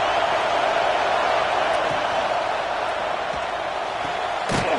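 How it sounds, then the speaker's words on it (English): A packed college football stadium crowd at a USC vs OSU game roars as one steady, loud, dense wall of cheering, with a sharp bang near the end. "But this crowd is fired up. Listen to this noise here."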